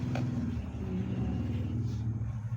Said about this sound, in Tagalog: ayan, may motor mga lods.